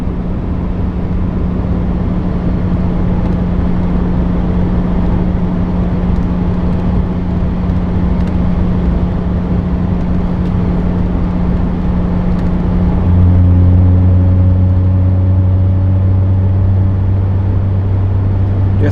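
A highly modified Mazda ND Miata cruises and accelerates on the highway, a loud steady engine drone with road roar, its tone rising and thickening in the last few seconds.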